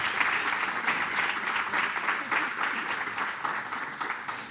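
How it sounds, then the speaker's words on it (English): Audience applause at a conference session on AI in schools, a steady wash of clapping filling the room for nearly five seconds, fairly close and even in level with no talk over it. "I would welcome an applause for them for this."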